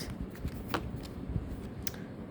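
Tarot cards shuffled and drawn by hand, soft papery riffles and slides broken by a few sharp flicks as cards snap free, close and fairly quiet, with no talking.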